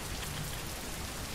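Rain falls steadily in the survival game Oxygen, a constant even hiss of drops on a surface with no other sounds.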